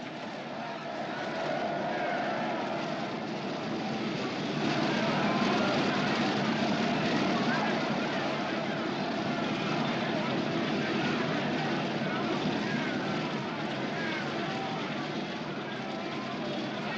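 A propeller airplane engine drones steadily in a film scene, a loud continuous hum that swells slightly midway and then holds for the whole stretch, with no voices heard.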